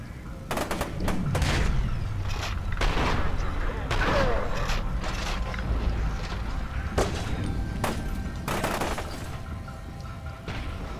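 Gunfire in the video game F.E.A.R. 2, with repeated sharp shots and bursts scattered irregularly over a rumbling background, loud and close, with voices under it.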